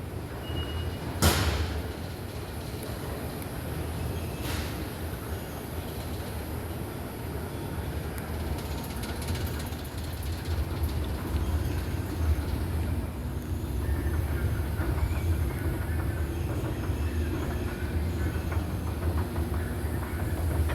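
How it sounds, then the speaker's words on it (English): Los Angeles Metro train ride from Highland station: steady loud rumble and rattle of the moving carriage, with wheel clatter and a few sharp clanks near the start, continuous throughout without talk. "nos subimos al metro en la estación Highland"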